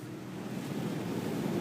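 A storm-chasing vehicle drives through high water on a flooded road, throwing up a steady, loud rushing spray of water that continues without a break and with no voices.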